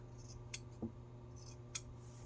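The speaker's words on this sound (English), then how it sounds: "Grab our scissors. We're going to cut our corners to remove some of the bulk." Sewing scissors snip through the fabric corners of a patchwork notebook cover, giving a couple of short, crisp cuts close by in a quiet room with a low steady hum and no talking.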